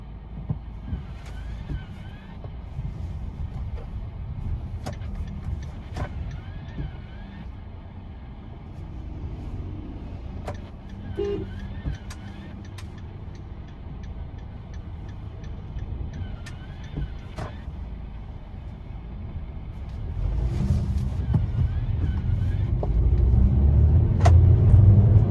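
A Maruti Suzuki Vitara Brezza petrol car being driven, a low steady engine and road rumble heard from inside the cabin, with faint ticks and a rise in engine noise near the end as it accelerates.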